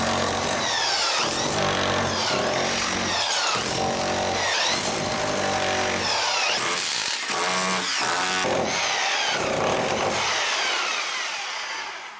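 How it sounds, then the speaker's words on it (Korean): Loud rhythmic chipping and breaking while a bathroom floor is dug out by hand without a grinder during a faucet relocation, with repeated hard impacts and scraping up close. "이거 뭐 예쁘게 팔 자리는 아니니까 여기는 일단은 그라인더 작업 없이 그냥 한번 파 볼게요"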